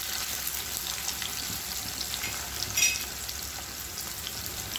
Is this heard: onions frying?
yes